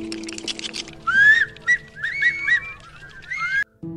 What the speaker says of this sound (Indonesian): Mereka berusaha memanggilnya, bersiul, dan sebagainya.